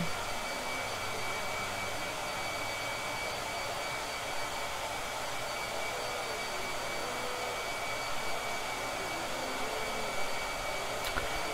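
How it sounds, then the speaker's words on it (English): A hair dryer blows continuously at a steady, even pitch, fairly quiet and unchanging, with no voices over it. "Blow dryer."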